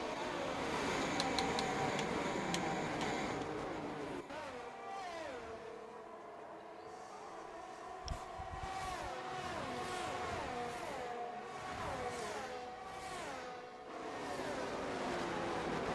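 Several race cars, a McLaren among them, whine along a straight in an online racing game, engines rising and shifting in overlapping pitch sweeps, steady and fairly close with no talk.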